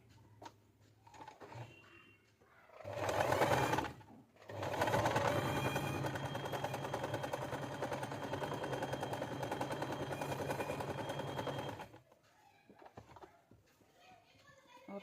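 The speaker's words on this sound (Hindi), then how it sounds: "अब हम फिर से इससे सीधा सिलाई कर देंगे।" Sewing machine running a straight stitch along saree fabric, a fast even mechanical rattle close by, starting after a short burst and quiet gap, then stopping abruptly, with faint voices in the background.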